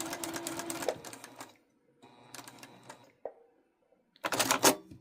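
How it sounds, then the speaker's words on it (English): Sewing machine stitching a foundation paper pieced quilt block from scraps, in three separate bursts of fast close rattling, the last one loudest, with short quiet gaps between them. "when you come over here on your 1/4 inch, come over a little bit when you do your stitching."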